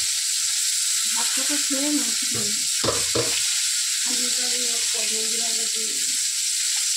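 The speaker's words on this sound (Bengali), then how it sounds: "তো এখন দেখো তেল আবার ওই তেলেই আমি পটলটা ভেজে নেব।" Pointed gourd (potol) frying in oil makes a continuous hiss and sizzle at close range, with someone talking over it through most of the stretch.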